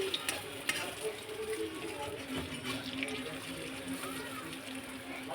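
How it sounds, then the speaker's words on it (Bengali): Besan-coated greens frying over low heat in a kadai, a steady close sizzle and crackle running throughout with occasional stirring clinks and light watery hiss, no talk. "এরকম উল্টে পাল্টে লাল মচমচে করে ভেজে নেব"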